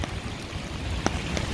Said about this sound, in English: It's raining a little bit harder here by the lakefront.